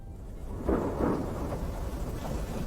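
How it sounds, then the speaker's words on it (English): Steady rain hisses while deep thunder rumbles in a couple of rolling swells, fairly faint and distant. "It's really raining!"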